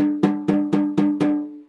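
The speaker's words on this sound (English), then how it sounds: "if I have the snares loose so they're not contacting the bottom of the head" Five evenly spaced strikes on a snare drum with the snares loosened off the bottom head, each hit giving a ringing, tonal drum note with a clear pitched hum and short decay, played alone in a steady rhythm.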